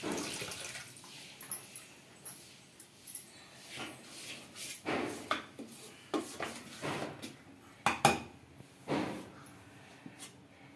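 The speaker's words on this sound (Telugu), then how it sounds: "ఇప్పుడైతే ఈ పిండిని ఒక గిన్నెలోకి అయితే తీసుకుంటున్నా" Dosa batter being moved into a bowl in a home kitchen, with scattered clinks and clatters of dishes and utensils alongside wet scraping and pouring sounds, fairly quiet and close.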